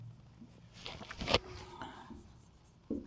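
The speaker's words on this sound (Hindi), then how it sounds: "नीचे लिखेंगे" Pen scratching on paper during a statistics lesson, faint and close, with soft strokes and one sharper scrape partway through in an otherwise quiet room.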